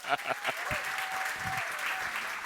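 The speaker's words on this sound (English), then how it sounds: "Give him a round of applause." Applause from a seminar audience greeting a guest called up on stage, a steady wash of clapping with a brief faint tone and some voices mixed in.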